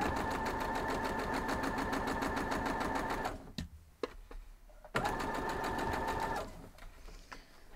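A sewing machine runs in two long steady bursts while stitching a quilt block seam, with a pause and a few handling clicks between them and a quieter tail at the end.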